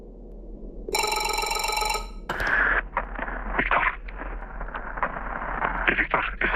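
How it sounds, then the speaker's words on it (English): A phone rings for about a second in the horror video game MOLE, a steady electronic trill, followed by clattering and murky ambient noise. "I hear a phone call again."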